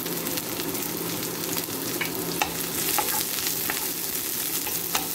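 Onion and garlic frying in a pan for chicken tinola, a continuous close sizzle with scattered sharp taps and scrapes as the pieces are stirred, no voices.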